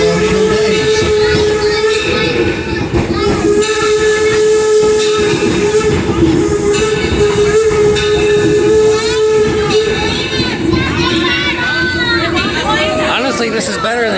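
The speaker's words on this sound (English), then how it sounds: "you actually get to hear the whistle more" A steam locomotive whistle blows a long, loud, sustained tone over hissing steam and rail clatter, with people talking nearby throughout.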